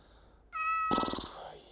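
A cat gives a single short, clear meow close by, followed by a brief burst of noise.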